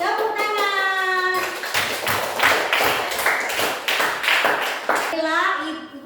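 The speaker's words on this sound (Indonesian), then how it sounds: "Tepuk tangan." A group of women clap their hands together in a classroom, a run of sharp, fairly loud claps in quick rhythm between stretches of close speech.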